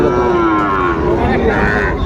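A Sahiwal bull at a livestock market in Sylhet gives one loud, drawn-out moo that lasts about two seconds, close and clear, with crowd noise faintly beneath it.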